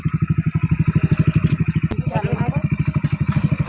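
A Honda Activa scooter engine idles and putters steadily up close with a rapid regular pulse while its tyre is stuck in dust, a brief click partway, and a voice talking over it.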